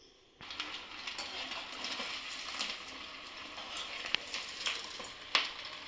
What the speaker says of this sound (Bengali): তেল গরম হয়ে গেছে তাই একটা আগে বানিয়ে একটু ভেজে নিচ্ছি